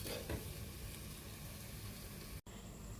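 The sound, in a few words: beetroot cooking in a covered pan for pickle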